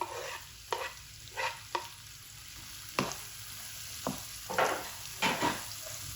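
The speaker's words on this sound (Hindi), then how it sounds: "अब ये डाल के हम तकरीबन 3 मिनट भूनेंगे।" Chopped capsicum frying in a pan with liver, a quiet continuous sizzle punctuated by separate spoon scrapes and stirs at irregular intervals, close and clear with no talking.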